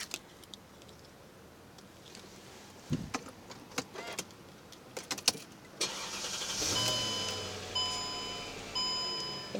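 A 2005 Mercedes-Benz E500 V8 sedan with keyless entry: key jangles and clicks, a door thud, then the engine cranks and catches, settling into a steady idle with a faint electronic chime, heard close from inside.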